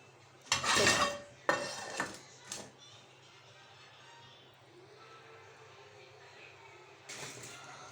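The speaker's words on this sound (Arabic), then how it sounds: "بتغسل المواعين" Dishes, pots and pans being washed by hand, with a few loud clattering bursts of metal and crockery early on, then softer rinsing and scraping, and another clatter near the end.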